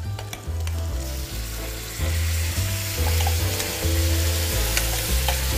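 Fish, its skin topped with apple, frying in a pan and basted with oyster cream: a steady close sizzle with spoon scrapes and clinks, and a low hum running underneath, no one talking.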